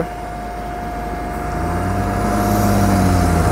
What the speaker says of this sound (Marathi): बघा जेसीबी एवढा मागून जोर लावून राहिलाय तरी ट्रक काही हालत पण नाही.